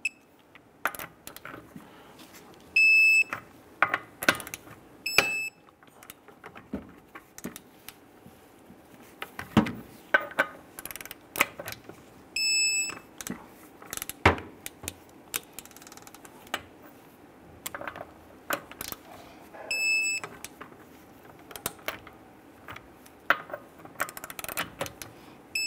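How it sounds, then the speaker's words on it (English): A torque wrench tightens the front wheel lug nuts on a 2005-2010 Chrysler 300, with scattered sharp metallic clicks and ratcheting, and a few ringing clicks spread over the pass. "Let's go ahead and torque down our lug nuts to 110 foot-pounds."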